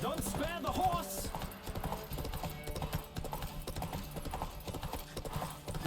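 Hooves clip-clop steadily through a galloping horse race in The Witcher 3, with a whinny early on, music underneath and someone talking over the hoofbeats.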